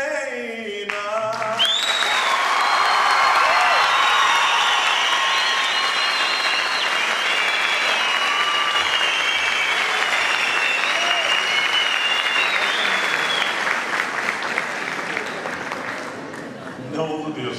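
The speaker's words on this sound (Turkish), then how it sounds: "Hani çok güzel bir alkış geldi içeride" Loud, sustained applause from an indoor audience at a talk, rising right after a sung line and rolling on steadily for over a dozen seconds before tapering off, with cheers woven through it.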